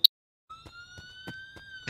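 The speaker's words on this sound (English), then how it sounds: "That's the sound of the police." A short, faint police siren wails briefly in the Friday the 13th video game, a thin rising electronic tone heard at a distance over faint background thumps.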